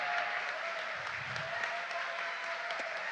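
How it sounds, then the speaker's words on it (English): Audience applause at a city council meeting, a steady, even wash of many hands clapping in a chamber, moderately faint and continuous. "Thank you for applauding my family."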